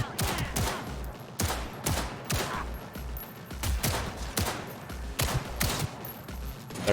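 Gunfire in the video game Cyberpunk 2077 rings out in repeated sharp shots and short bursts, loud and close, spread irregularly across several seconds.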